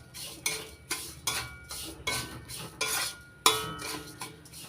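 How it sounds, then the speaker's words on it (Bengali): Grated coconut being stirred into semolina halwa in a pan, with a regular rhythm of scraping, scooping strokes about twice a second, close and clear, one stronger clack near the end. "নারকেল কোড়া ভালো করে মিশিয়ে নিচ্ছি সুজির সঙ্গে।"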